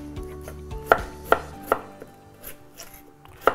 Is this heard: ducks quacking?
no